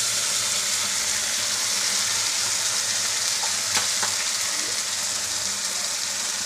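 Onion, ginger, chilli and garlic paste frying in hot oil for a boal fish curry, giving a steady close sizzle throughout with a few brief stirring clicks near the middle.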